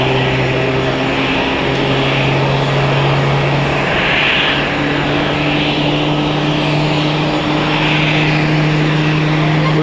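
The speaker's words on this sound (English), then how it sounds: "We've got flight Pegasus A321 Neo starting up. A Swiss Airbus A321 is taxiing in." An Airbus A321 runs its jet engines on the ground at Zurich Airport, a loud, constant roar with a steady low hum underneath, heard from an observation deck without speech.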